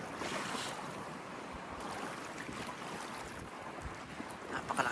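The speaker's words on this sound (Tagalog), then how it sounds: "Napakalakas po ng hangin." Strong wind gusts at sea near a windmill, a steady loud rushing roar mixed with wave wash, continuous and close to the microphone, with no talking.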